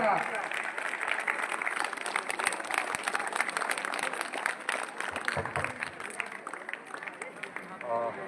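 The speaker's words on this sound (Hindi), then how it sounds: "जोरदार तालियों से स्वागत करें मृत्युंजय सरकार।" Applause fills an indoor school gathering as a guest is welcomed to the stage at a science exhibition, a dense, steady clapping from a crowd of children that carries on for several seconds and stays loud throughout.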